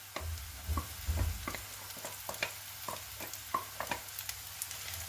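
Curry leaves, green chillies and spices frying in a pan, with a steady low sizzle broken by a series of sharp stirring scrapes and clicks spread across the clip, close up with no voices.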